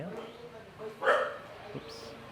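A dog barks a few times on a street in Ho Chi Minh City, short yips at moderate distance, mixed in with a person talking nearby.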